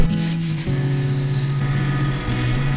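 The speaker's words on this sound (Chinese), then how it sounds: "那么第二次我们要用220的，我在这次在磨的时候就手轻一点" Sandpaper of 220 grit rubs steadily over an Awa fishing float, producing close, continuous scratchy friction with a low steady hum underneath and no pauses.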